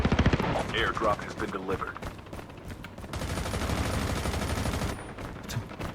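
Rapid gunfire erupting from all directions in a shooter video game, dense bursts of machine-gun and rifle shots near and far, with someone talking over the action.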